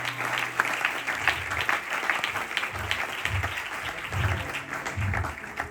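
Steady applause from a church congregation during a sermon, a continuous wash of clapping throughout with a few low murmurs underneath.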